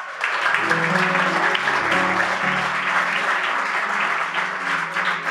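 A church congregation at a Sunday service bursts into loud, sustained applause that fills the room with dense, continuous clapping.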